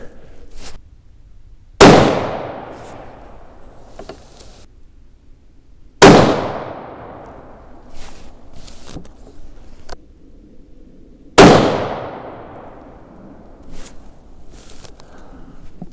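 A Ruger M77 rifle in .243 Winchester with a thin barrel fires a group of hunting loads: three loud, sharp reports about five seconds apart, each trailing off in a ringing outdoor echo.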